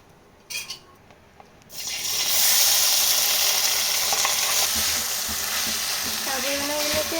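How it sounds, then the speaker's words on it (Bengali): Soaked sabudana is dropped into a hot kadai and fries lightly with a loud, steady sizzle. A few faint clinks come before it, and the spoon scrapes and stirs as the frying goes on. "সাবুদানাগুলোকে আমি হালকাভাবে ভেজে নেব প্রায় 4 থেকে 5 মিনিট।"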